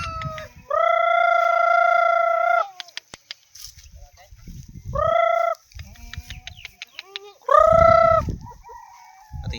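Backyard farm chickens in a free-run area with goats and turkeys answer a call with three loud, drawn-out crowing calls, separated by scattered clucks and rustling nearby.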